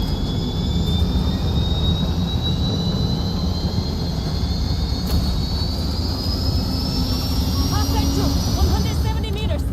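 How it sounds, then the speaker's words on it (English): An M1 Abrams tank's gas turbine starting up in Battlefield 2042, a loud steady roar with a whine that climbs slowly in pitch across the clip, like a jet spooling up, with faint voices underneath. "The M1 Abrams, upon engine startup, sounds more like a military aircraft getting ready to take off."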